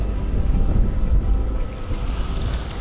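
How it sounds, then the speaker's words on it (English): A sailboat motors across a calm sea with no wind, its engine a steady low rumble with water wash and some microphone wind buffeting, continuous and fairly close throughout. "No wind meant we were motoring"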